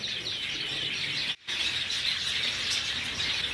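White Java sparrows in a breeding colony, a dense, steady chorus of small chirps and tweets close by, briefly cut off for a moment midway, no talk.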